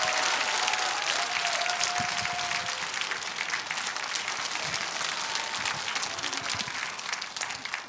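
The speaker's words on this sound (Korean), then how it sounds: "큰 박수를 보내주시기 바랍니다." A large crowd at an outdoor rally in Gwanghwamun Square breaks into sustained applause. The dense, loud clapping washes steadily over the whole stretch, with faint voices mixed in.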